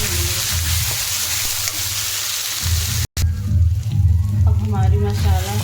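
Onion and masala paste stir-fried in a pan for a paneer curry, giving a steady frying sizzle with scraping stir strokes. The sound runs loud throughout, breaks for a moment, then a voice talks over it.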